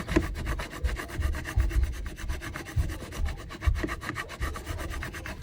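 Scraper tool pressed down and drawn across a Dollar Tree Easter decoration in a DIY craft, giving close, steady, rapid rubbing and scratching strokes with no talking.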